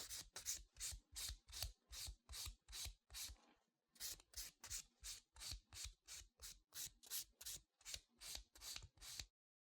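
A nail file rasps back and forth across an acrylic nail, bevelling toward the tip in quick, even strokes, about twenty rhythmic rubs with one brief pause, close and clear with no voices.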